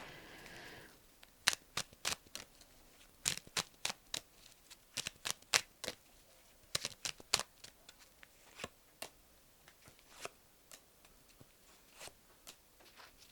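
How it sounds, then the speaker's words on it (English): Tarot cards shuffled and dealt out for a reading make sharp, quiet snaps and flicks, some grouped in quick runs and others spaced apart, close-up against a hushed room with no talking. "Let me put some more cards out."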